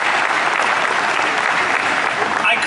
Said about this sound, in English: How about a round of applause for both of those institutions?